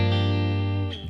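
An electric guitar played through a Universal Audio UAFX amp simulator pedal with the treble rolled off rings out as one sustained, warm, harmonically rich chord that shifts slightly near the end, clear and upfront.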